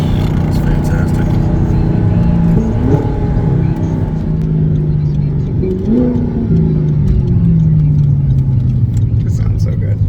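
An Audi R8 engine accelerates hard on winding Ozark mountain roads, a loud rising roar that climbs through the revs, drops briefly at two gear shifts and then climbs again, with excited talk over it.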